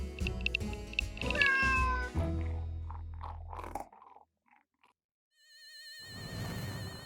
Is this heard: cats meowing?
yes